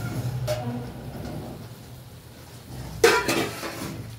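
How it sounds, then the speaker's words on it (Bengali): A metal pot lid being flipped over on a pot of chicken curry, giving a light clink and then a sharper metallic clatter with a brief rattle. "দেখো আরেকবার ঢাকনাটা উল্টাচ্ছি।"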